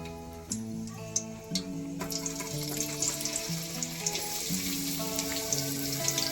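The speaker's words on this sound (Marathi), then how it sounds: "तर तेल गरम झालेलं आहे आपण त्याच्यामध्ये कढीपत्ता टाकून घेतो बारीक चिरलेला कांदा" Curry leaves and finely chopped onion frying in hot oil for a drumstick and field bean curry, a soft steady sizzle with light ticking crackles under faint tonal background sound, with no talking.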